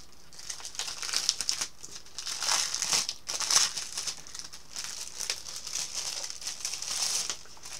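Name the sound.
crinkling wrapping paper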